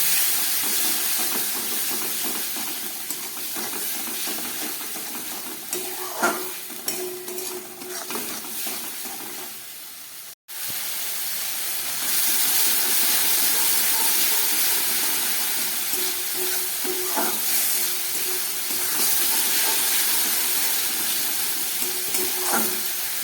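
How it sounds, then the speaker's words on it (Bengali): Ground spices and a splash of spice water fry with rohu fish roe in a pan, giving a steady, close hiss and sizzle with occasional scraping stirs. There is a short break midway, and the sizzling then grows louder. "এর মধ্যে একটু মশলা জল দিয়ে দিচ্ছি দিয়ে গুঁড়ো মশলা যেহেতু একটু ভালো করে কষাতে হবে"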